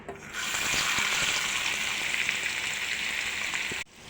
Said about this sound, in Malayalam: നമ്മൾ കുറേശ്ശെ ഇട്ട് വേണം വറുക്കാൻ